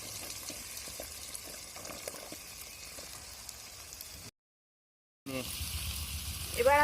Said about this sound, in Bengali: এর ভিতরে কাঁচা মরিচ দেব, এর মধ্যে এবার সজনের ডাঁটাগুলো দিয়ে দেব।